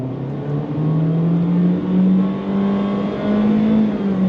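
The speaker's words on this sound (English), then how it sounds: "Let's do another on throttle from a dead stop." A 2023 Honda HR-V SUV engine accelerating steadily from a stop, its hum rising in pitch and swelling in loudness, heard from inside the cabin.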